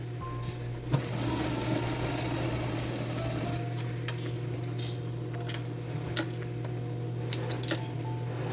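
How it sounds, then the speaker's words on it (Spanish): A sewing machine runs a steady topstitch seam over the fly of men's denim jeans, with a continuous close mechanical whir and a few sharp clicks and taps from handling the fabric. "Ahora paso una costura en la parte sobre la portañuela"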